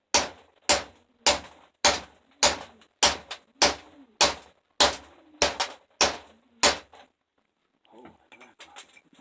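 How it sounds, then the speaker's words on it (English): A sledgehammer driving a chisel into rock to extract garnets in Northern Ontario, about a dozen sharp, ringing strikes in a steady rhythm, close and loud, then a pause and faint scraping and movement. "Sledgehammer and chisel try."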